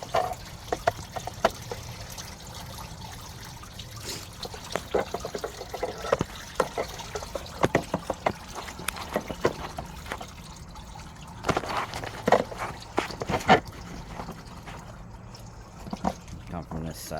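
Coolant drains from a 2018 Chevy Malibu during water pump service, a faint trickle and dribble of liquid with scattered drips and clinks over quiet shop background.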